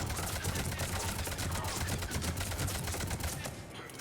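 Rapid gunfire from warp ammo in a sci-fi shooter game crackles in a dense, continuous stream of sharp shots that fills the whole stretch before easing off at the very end.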